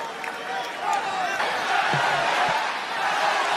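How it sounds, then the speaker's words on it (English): A WWE SmackDown arena crowd in California cheering and rallying, a broad steady roar of many voices with a few claps and thumps, under a commentator's talk. "California, the crowd rallying."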